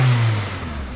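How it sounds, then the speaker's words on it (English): A 2003 Toyota Corolla engine, just fitted with new ignition coils, idles smoothly and close by with a steady low hum, with no talk over it. "Okay, I'm going to start up the vehicle. Yeah, the vehicle runs really smooth now."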